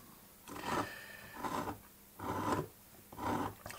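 A dry-point compass scratches across paper while tracing a rosette, giving four distinct rasping strokes, each about half a second to a second long, close and fairly quiet, with short pauses between.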